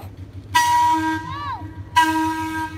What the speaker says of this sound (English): That's the train we were on.